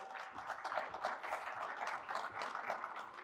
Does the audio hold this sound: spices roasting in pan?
no